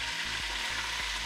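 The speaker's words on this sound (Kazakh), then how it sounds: "Ет қуырылып жатқанда" Meat fries in a pan with a steady, dense sizzle that stays close and even throughout, with faint low thumps underneath.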